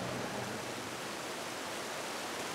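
Water rushing at the Endo dam, a steady broad hiss of flowing water, even and unbroken for a couple of seconds and fairly faint.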